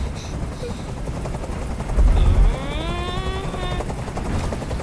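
A helicopter hovers in the video game Detroit: Become Human, a loud steady rotor drone filling the whole stretch with no talk over it.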